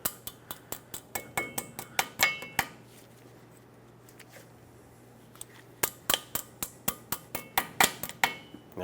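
Sharp metallic clinks and taps in quick bursts, close and fairly loud, from a cotter pin being bent over on the front axle nut of a 2003-2009 Dodge Ram 2500, with a quieter pause in the middle and a steady low hum underneath.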